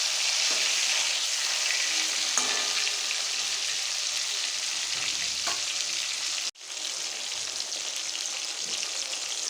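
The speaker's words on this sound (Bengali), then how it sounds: "মাছগুলো উল্টে পাল্টে ভেজে নেব।" Katla fish pieces fry in hot oil for a Bengali fish curry, a loud continuous close sizzle that holds steady, broken once by a brief cut near the end, with no talking.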